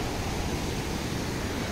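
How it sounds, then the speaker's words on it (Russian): Waterfalls roaring in the Carpathian mountains, a dense, steady broadband rush filling the whole clip without any pauses or voices. "О, водопады здесь шумят."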